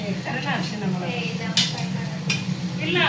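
Food sizzles and fries steadily in a pan while a utensil stirs with occasional clinks, and voices murmur in the background.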